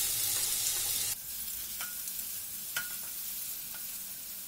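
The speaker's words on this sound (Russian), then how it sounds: "И отправляем на сковороду лук. Лук будем обжаривать до золотистого цвета." Medium onion frying in vegetable oil and butter in a pan gives a close, steady sizzle that is loudest at the start and then settles. A few faint stirring clicks come through, and no one speaks.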